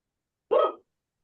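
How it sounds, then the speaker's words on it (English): A single short, sharp dog bark from somewhere indoors during an online nursing meeting, standing alone against total silence. "Sorry if you can hear my dog in the background."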